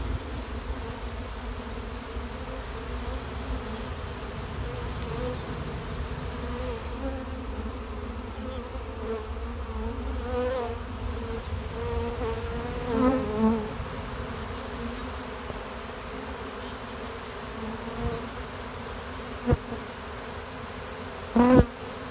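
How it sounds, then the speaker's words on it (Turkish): Steady buzzing of a honeybee swarm on a thorn bush fills the air, a dense continuous hum with a few sharper knocks near the end. "Arılar dikendeydi."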